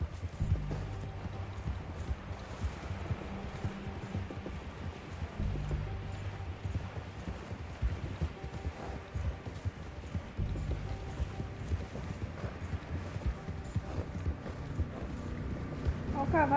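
Horse hooves clip-clop at a steady walking rhythm in the Red Dead Redemption 2 video game, moderately loud and continuous, with splashing through water in places and voices talking over them.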